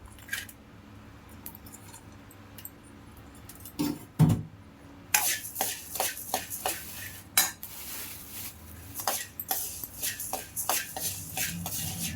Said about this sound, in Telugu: దీంతోనే పసుపు కొమ్ములు వేస్తున్నాను